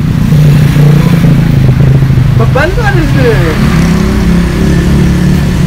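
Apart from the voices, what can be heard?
Yamaha XS650 cafe racer motorcycle engine while riding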